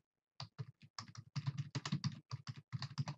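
Keystrokes on a computer keyboard while entering a name and pasting a URL into a mapping program, a quick run of close, crisp taps in short clustered bursts with brief pauses, no talking.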